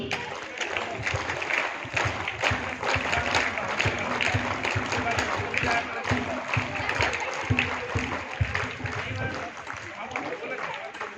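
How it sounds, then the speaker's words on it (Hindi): Loud audience applause from students and guests at a school Republic Day function, dense and continuous throughout, with some voices and movement mixed into the clapping. "जरा बजाइए जोरदार तालियां"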